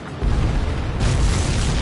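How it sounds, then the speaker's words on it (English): A supply ship blows up in the video game Ace Combat 7, a deep rumbling boom that swells after a quarter second and keeps roaring loudly with a broad hiss for the rest of the stretch. "Did you see that explosion?"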